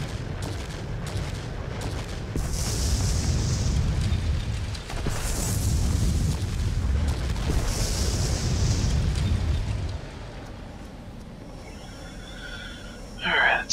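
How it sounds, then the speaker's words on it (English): Bombs dropped from a Tier IX Messerschmitt Me P.1099 B-2 attack aircraft explode in World of Warplanes, a run of heavy rumbling blasts swelling and fading over steady engine drone, then easing into quieter hiss near the end. "These bombs have a pretty good radius."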